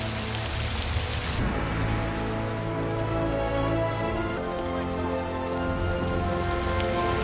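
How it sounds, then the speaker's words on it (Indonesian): Steady, dense rain pours down in a film scene with strange weather, loud and continuous throughout, with a low tonal hum running beneath it. "hujan di sana sangat aneh"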